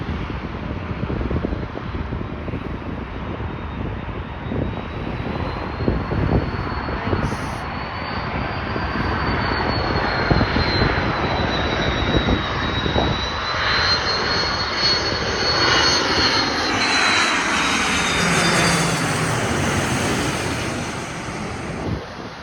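An Aer Lingus Airbus A330-202 jet from Dublin comes in to land at Chicago O'Hare, its engine roar loud and sustained throughout, the whine rising slowly in pitch as it nears, with wind buffeting the microphone.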